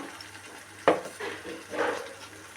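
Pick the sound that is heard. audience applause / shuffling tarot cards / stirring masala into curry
stirring masala into curry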